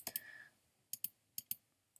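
Short bursts of computer keyboard typing while notes are entered, quiet, close key clicks in small clusters separated by pauses, no talking.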